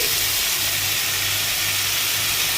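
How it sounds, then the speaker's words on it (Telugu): Tomatoes tipped into a pan of fried onions set up a steady, close sizzle with a hissing, steamy texture that holds evenly throughout, and nobody speaks. "ఇప్పుడు ఆనియన్స్ వేగిపోయినాయి తర్వాత మనం టమోటాలు వేసుకోవాలి"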